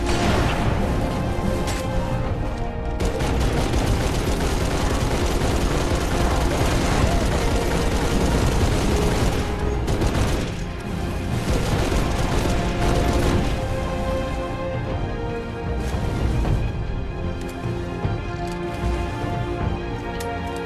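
Turret machine-gun fire in Halo 3: ODST on the Coastal Highway mission at Legendary difficulty, a dense, loud, nearly unbroken stream of rapid shots mixed with booming blasts and crashes that barely lets up for the whole stretch.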